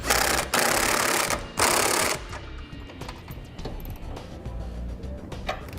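A 19mm socket snugs down flange nuts on a Curt trailer hitch receiver under a 1995 Jeep Cherokee, with loud bursts of rapid ratcheting or impact-tool rattling early on, then quieter clicks and handling noise.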